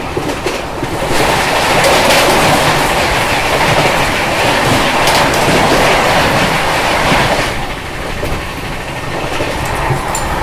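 Two express trains, the Tamil Nadu Express and the Punjab Mail, pass each other at 130 km/h. A loud, continuous rumbling roar and rail clatter fill the whole stretch, with a slight dip near the end.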